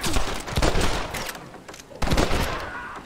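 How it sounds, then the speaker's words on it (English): Bursts of rifle fire pour down from enemies on a cliff top in Red Dead Redemption, two dense volleys of rapid loud shots separated by a brief lull. "They're shooting down on us!"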